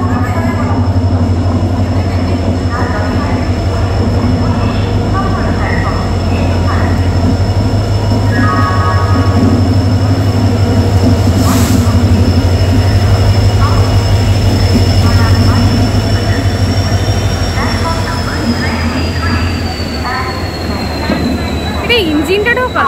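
A train on the Kolkata to Puri route rumbles steadily with wagon clatter and wheel noise, a high drawn-out squeal rising and falling near the end, continuous and close throughout with faint voices in the background.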